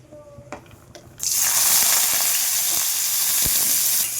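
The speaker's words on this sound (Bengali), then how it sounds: "তেলটা গরম হয়ে গেছে এবার এই লাইয়ের খোসা কুচনোগুলো আমি তেলের মধ্যে দিয়ে দেবো" Chopped bottle gourd peel drops into hot mustard oil and bursts into a loud, steady sizzle that runs to the end, after a few quiet kitchen clicks and taps.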